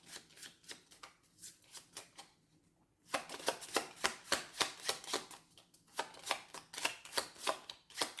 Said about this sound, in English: Think of it now as I shuffle the cards.